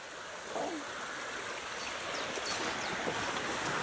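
Rushing water roars steadily throughout, a broad constant wash like a swollen river flowing fast nearby.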